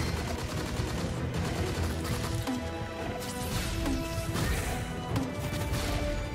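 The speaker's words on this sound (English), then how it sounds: "Stay back. I'm shooting at you." Gunfire in the video game Monsters and Monocles, a continuous clatter of shots and impacts mixed with crashes and game music, steady and loud throughout.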